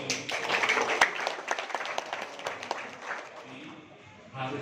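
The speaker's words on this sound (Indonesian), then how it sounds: "keberanian yang perlu kita tepuk tangan sekali lagi" An audience claps for hackathon participants at a gathering. The clapping is scattered and uneven, with a few sharp claps, and people talk over it throughout.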